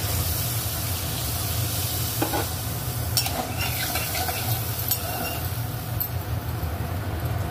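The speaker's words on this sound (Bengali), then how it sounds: "এবার এর মধ্যে জল দিয়ে দেওয়া হচ্ছে।" Water hitting a hot pan of Bengali vegetarian bori jhal flavoured with hing gives a steady, loud, close sizzling hiss with a few brief scraping knocks, and no voice.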